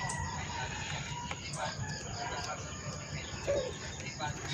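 Live chickens kept for slaughter, some weighing two to three kilos, cluck and crow faintly in the background amid steady ambient noise, with occasional brief calls standing out.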